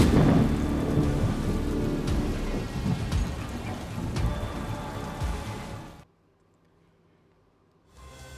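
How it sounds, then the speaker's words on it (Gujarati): Heavy pre-monsoon rain pours in Saurashtra, Gujarat, with rolling thunder. A loud, dense roar lasts about six seconds, then cuts to near silence before the rain returns at the end. "ભારે વરસાદ થઈ રહ્યો છે"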